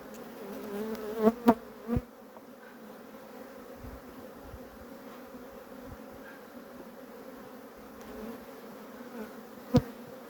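Honeybees hum steadily around an open hive during inspection, a soft constant buzz broken by a few sharp knocks and taps.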